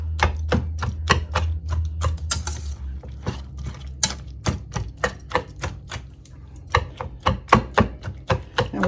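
Rapid, uneven knocks of a utensil chopping and mixing squash casserole ingredients in a bowl, a dense run of sharp close taps with no talk.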